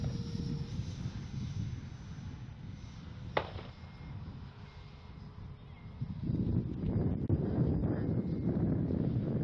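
Steady wind roars across an open RC jet flying field, with broadband rumble buffeting the microphone throughout, a brief sharp tick partway through, and gusts swelling stronger toward the end, with no voices.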